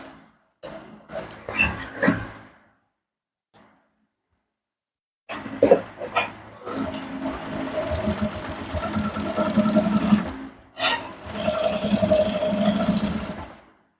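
A sewing machine stitches fabric for a men's senator top, running in short bursts and then longer steady runs with a mechanical whir and rattle, close and clear, separated by pauses of silence.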